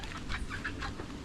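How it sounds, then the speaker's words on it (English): A rooster on the grounds of a rainforest rental property in Luquillo, Puerto Rico, gives a few short, faint clucks at a distance over soft outdoor ambience. "There's that rooster down in there."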